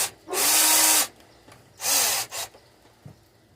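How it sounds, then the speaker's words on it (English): A handheld power drill twists wire for a homemade basswood crankbait, whirring in two loud close bursts of about a second each, followed by a short clipped spin and a faint click. "Then we'll get the drill out."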